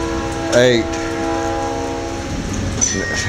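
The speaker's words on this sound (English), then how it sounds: "train's coming" A train horn blares briefly with strong harmonic tones, then the steady rumble of a passing train continues with rain-like noise in the background.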